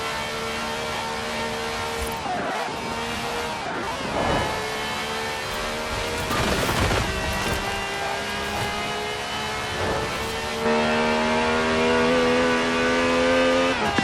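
A 2016 Audi R8 V10 Plus in Forza Horizon 4 revs hard and climbs through its gears, with a loud, continuous engine note that drops and picks up again through several shifts and no talking over it.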